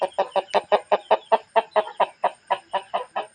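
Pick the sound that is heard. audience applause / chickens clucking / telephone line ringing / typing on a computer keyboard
chickens clucking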